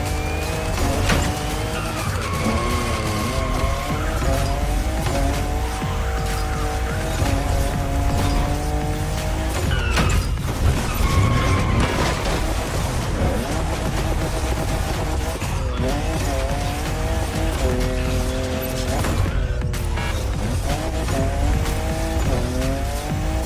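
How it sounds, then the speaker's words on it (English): A fifth-generation Toyota Supra races in The Crew Motorfest, its engine loud and continuous, rising through revs with repeated gear-shift drops, while tires squeal and skid through the corners. "I'm just in love with what Toyota did with this new Supra"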